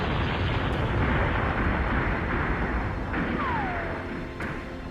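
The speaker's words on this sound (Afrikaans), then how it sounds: "terwyl die eerste bom op die Magersfonteinrande val" Bomb exploding on the Magersfontein ridges during a battle reenactment: a loud, sustained rumbling blast with heavy low boom that slowly fades, and a faint falling whistle partway through.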